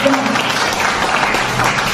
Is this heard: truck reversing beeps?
no